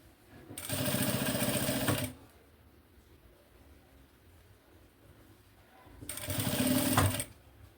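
A sewing machine stitches a seam on a fabric maternity bag in two loud bursts of rapid running, each one to two seconds long, with quiet room tone in the pause between them.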